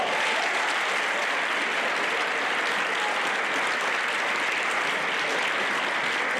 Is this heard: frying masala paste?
no